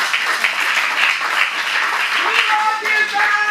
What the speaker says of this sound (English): let's give a round of applause to Tamara and the staff here